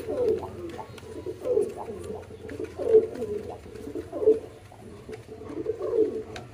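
A pair of Damascene pigeons coo in repeated soft rounded phrases, about five bursts spaced roughly a second apart, close by over a low steady background hum.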